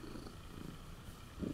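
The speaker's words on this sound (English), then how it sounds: "She's also purring." A domestic cat purrs softly up close while having its head scratched, a faint, steady low rumble with gentle pulsing and no talking.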